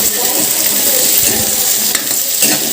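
Thin-sliced potatoes frying in a pan in a home kitchen, a steady loud sizzle with stirring scrapes throughout, no talking.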